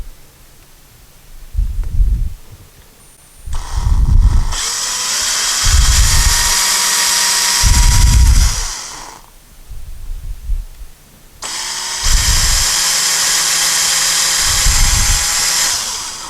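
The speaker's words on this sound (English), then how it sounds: "we're going to pre-drill the holes first" A power drill pre-drilling holes in wood whirs in two long, loud bursts, each rising and holding a high whine, with thumping knocks underneath and quieter pauses between.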